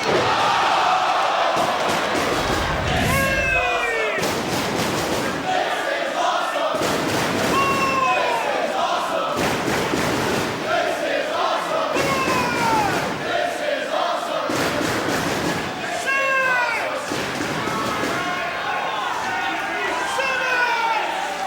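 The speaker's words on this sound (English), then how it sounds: "You heard the crowd saying, this is awesome." A wrestling crowd at a four-way match chants loudly in a steady repeating rhythm, broken by shouts and thuds, forming a dense roar that fills the arena.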